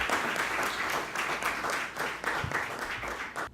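An audience on a Haitian TV program, applauding steadily and fairly close for a few seconds as a guest is welcomed.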